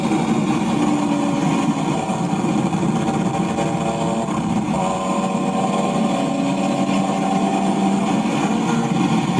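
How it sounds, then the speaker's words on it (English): Exhaust of a car dressed with BMW M3 CSL parts but not a genuine M3 CSL, heard as a loud, continuous engine drone on a crowded street, no voices. "You can hear his exhaust."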